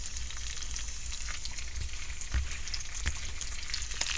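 Chopped cabbage and bacon frying in Crisco and lard in a cast iron pan, a steady dense sizzle and crackle throughout, with a couple of soft thuds, no talking.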